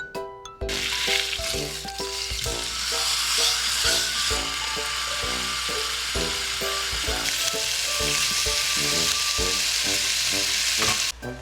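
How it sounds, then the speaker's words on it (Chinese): Marinated chicken breast pan-fries in olive oil, giving a continuous close sizzle with regular rhythmic crackling bursts that runs alone for the whole stretch, with no speech. "我們就用橄欖油來煎吶。"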